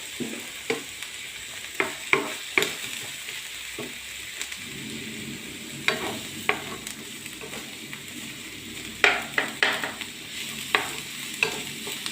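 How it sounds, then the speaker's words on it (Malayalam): Chopped onions fry in coconut oil in a pan, a steady low sizzle carrying on throughout, broken by repeated short scrapes and clicks of stirring, close and moderately loud with no one speaking. "രണ്ട് സവോള ചെറുതായിട്ട് എരിഞ്ഞത് അതിനകത്തേക്ക് ഇട്ട് കൊടുക്കാം"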